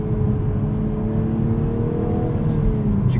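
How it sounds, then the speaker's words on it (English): A 2023 Toyota Supra with a six-speed manual, switched to sport mode with its exhaust valve open, gives a steady loud engine drone and exhaust rumble with a faint rising tone, no speech. "As you can hear, it opens up that exhaust valve."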